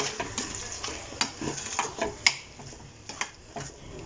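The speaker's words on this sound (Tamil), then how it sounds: "நல்லா mix பண்ணி எடுத்துக்கலாம்" Close scraping and soft clinks of a spoon stirring thick mushroom masala in a pan, with irregular strokes over a faint sizzle; no voices.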